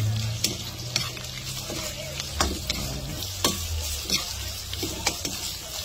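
Pork belly (liempo) sizzles in a pan for lomi, a close, steady frying crackle with repeated scraping and stirring knocks from a utensil.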